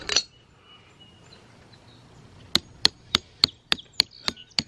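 An anchor bolt is hammered into a drilled hole with eight sharp, ringing metal strikes in a quick, even rhythm after a brief clink, loud and close in a quiet room.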